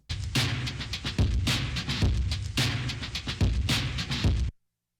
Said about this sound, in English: So I saturated them to all hell and smashed the drums so they sound like this.